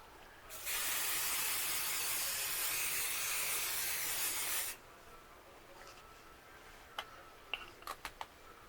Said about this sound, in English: and do a little spray.